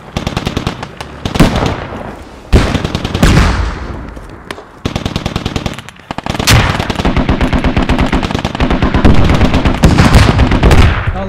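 Gunfire in the video game Squad: loud, close bursts of rapid automatic fire in long rattling strings, broken by short pauses and single heavy shots, nearly continuous across the stretch.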